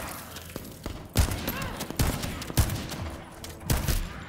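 Gunfire from a sniper rifle in the shooter game The First Descendant: several sharp, loud shots spaced about a second apart, each with a short echoing tail, over faint background game sounds.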